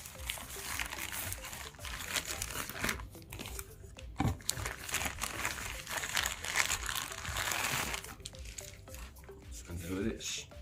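A Philips Bluetooth speaker is unpacked from its box, with close crinkling and rustling of packaging, soft scrapes and squishy handling noises continuing for several seconds.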